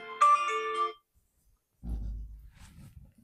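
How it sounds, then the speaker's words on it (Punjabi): A mobile phone ringtone plays a short bright melodic burst, then falls silent, followed by a low rumbling noise. "ਮੰਮੀ ਦਾ ਫੋਨ ਆਵੇ"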